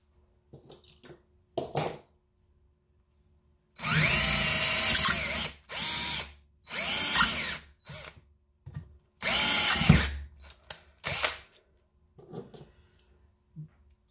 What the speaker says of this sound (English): the heads of the rivets sometimes get sucked into the drill bit and they get stuck in there